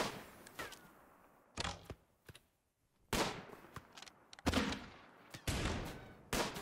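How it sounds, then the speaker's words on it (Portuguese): Gunfire from a battle in the Rimworld video game: sharp bursts of several shots each, spaced irregularly and separated by short gaps, fairly loud with no speech over them. "É tiro."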